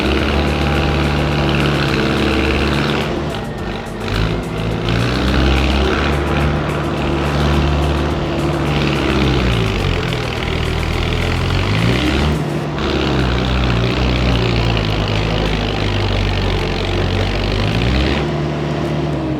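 A new Mahindra Arjun tractor with a 97mm-piston engine runs close by in a loud, continuous diesel drone, its pitch rising and falling slightly as the revs shift throughout.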